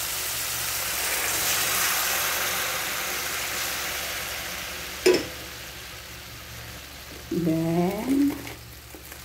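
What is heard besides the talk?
shumai cooking in a pan for soup (sabaw)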